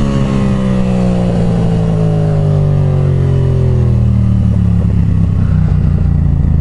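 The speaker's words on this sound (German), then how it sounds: "Das sind noch relativ schwache Fehlzungen." A Yamaha MT-07 with a ZARD full exhaust system roars loud and close, its engine note sinking steadily from high revs with light crackling pops on the overrun.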